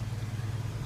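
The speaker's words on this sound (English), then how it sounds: "Heater works. Low, high, super high." The heater fan of a 1964 Ford truck runs with a steady, low, even whir for just under a second, close and unbroken, with no other sounds.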